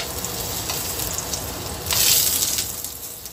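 Banana-filled white bread frying in a pan over medium heat gives a steady close sizzle that swells louder for a moment midway, with no talking.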